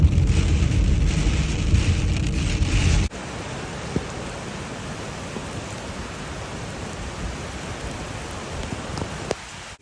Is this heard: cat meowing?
no